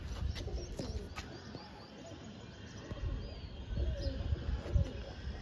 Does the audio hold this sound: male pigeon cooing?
yes